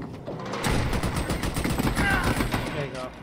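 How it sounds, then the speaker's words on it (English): Rapid bursts of automatic gunfire crackle continuously in a multiplayer shooter game, dense and fairly loud for about three seconds with overlapping shots, while faint voices sit underneath. "I'm being shot by somebody and it's annoying me"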